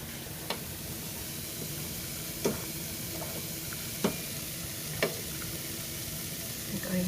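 Vegan cheese sauce being stirred in a pan on the stove, a steady soft sizzle and bubbling with a few sharp clinks of the utensil against the pan spaced a second or two apart.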